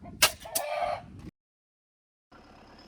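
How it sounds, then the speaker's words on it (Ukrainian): A rooster crows and clucks up close on a farm near a sunflower field, loud bursts for about a second, then silence, then faint background noise returns. "Барбос, убей петуха."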